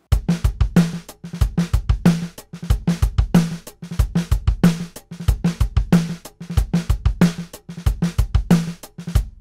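Drum-driven music loop played through a Line 6 Helix with low and high shelf EQ switched in and out, punchy kicks and snare hits repeating in a tight steady rhythm, loud and clear with no talking.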